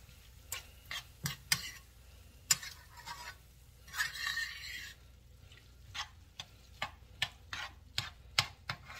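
Oysters getting a quick flash cook in a hot pan, soft sizzling with scattered sharp clicks and taps of a utensil against the pan, quiet and close, with no voices.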